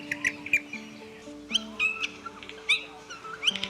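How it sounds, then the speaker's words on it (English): Recorded Regent Honeyeater song played through speakers in an aviary at a wildlife retreat in Australia: repeated bright chirps and short warbling phrases, fairly close and clear, over a faint steady background hum. "We have speakers placed around the aviary in here that plays the song to the birds so they can hear it and it simulates a bigger flock."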